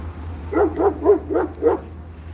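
A dog barks five times in a steady, evenly spaced rhythm, fairly close and clear over a low, constant hum, with no talking.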